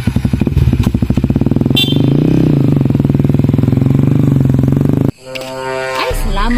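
Habal-habal motorcycle taxi engine idling and running steadily with a rhythmic pulsing, close and loud, then cutting off abruptly near the end; voices talk over it.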